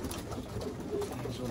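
Racing pigeons coo softly in a breeding loft during feeding, with overlapping low murmuring calls, light rustling and muffled voices nearby.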